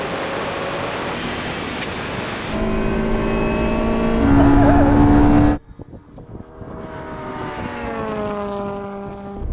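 Porsche hypercar and Red Bull rallycross car in a drag race, loud engines roaring and rising in pitch during hard acceleration, then a sudden drop to a quieter second engine note climbing through gears in the distance.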